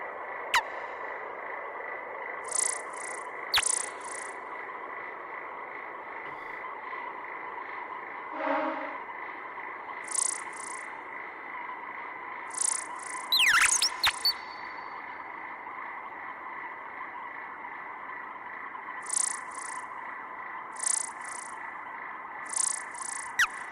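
Eurorack modular synthesizer chirps imitating flies and birds sound in short bursts of three or four over a steady synthetic hum, with an occasional sweeping tone and soft clicks.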